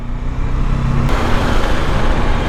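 Steady road traffic passes outside a school in Dehradun during drop-off hours, a continuous broadband rumble of cars and engines with a low tonal hum that cuts off partway through.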